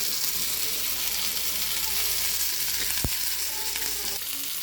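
Fish fries in a pan with a constant, dense sizzle that stays even throughout, broken once by a single short knock.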